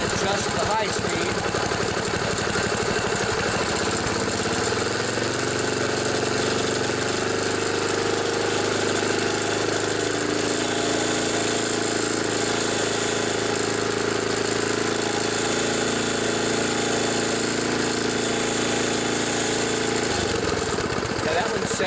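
A 1974 Sears Craftsman Rotospader rototiller with a Tecumseh engine idles steadily nearby, a continuous mid-pitched chugging with a slight speed shift early on, and someone talks over it briefly.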